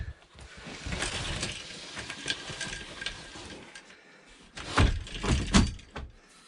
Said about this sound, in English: door slides nicely